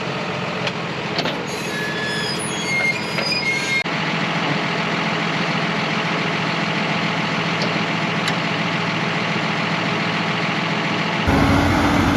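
A steady, loud tractor engine idles continuously with a low rumble, a brief high whine early on, and a shift in tone near the end.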